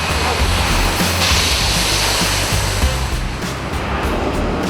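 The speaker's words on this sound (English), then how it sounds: "This is a pasta factory, and all these machines mean it's very noisy." Pasta-making machines run in a dried pasta factory, a loud, steady industrial roar and rumble that fills the space without pause from start to finish.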